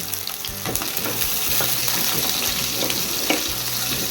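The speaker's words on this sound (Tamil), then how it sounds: "இப்போ இந்த வெங்காயம் கொஞ்சம் வதங்கிறதுக்கு" Steady loud sizzling of onions frying in a pan, with repeated scraping and stirring strokes throughout.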